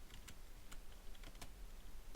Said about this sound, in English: I hope my clacky keyboard isn't coming across too bad either.